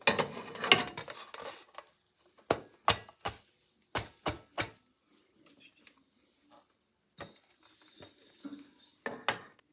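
Sharp clanks and scrapes of a pan as künefe is flipped, several metallic knocks in bursts with quiet gaps, close by, with faint sizzling underneath.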